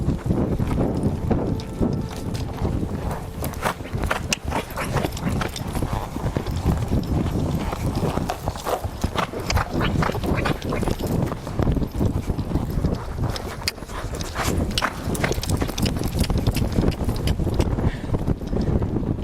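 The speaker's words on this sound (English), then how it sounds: "Ain't no way I'm making this horse go through the barrels again." A horse's hooves clip-clop in a fast, continuous rhythm during barrel riding, close and loud, with wind buffeting the microphone throughout.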